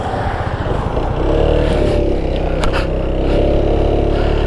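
An Italjet Dragster 200 four-stroke scooter with a CVT accelerates from a twist of the throttle, its engine note rising loud and close with wind rush building over the run.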